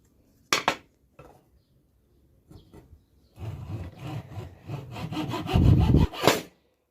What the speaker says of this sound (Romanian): Am tăiat nucile de cocos.